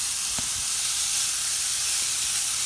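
Thick-cut bacon chunks sizzle in a preheated skillet, giving a steady, close crackling hiss throughout with a couple of faint clicks and no voices.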